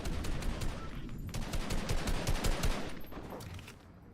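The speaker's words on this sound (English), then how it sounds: "Oh, someone has a heavy sniper." Rapid gunfire crackles in a Fortnite match as a heavy sniper rifle and other weapons go off, a dense, fairly loud string of sharp shots over about four seconds that fades at the end.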